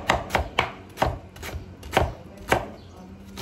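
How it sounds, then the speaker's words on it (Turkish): A knife chops food into small pieces on a cutting board in a home kitchen, striking in a quick, fairly even rhythm of about seven sharp, close taps with no talk. "Şimdi bunları böyle böyle küçük küçük doğruyoruz."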